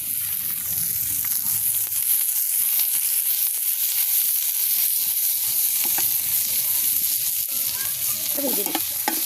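Onion and garlic fry for a tempering to go into lentils with jute leaves, giving a loud, dense, continuous sizzle in hot oil with occasional stirring scrapes.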